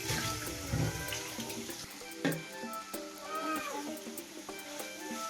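Water is poured into a cooking pan while a vegetable palya-style dish is being made, a modest splash and trickle rising and easing for a few seconds, close and moderately loud, with a few other kitchen sounds around it.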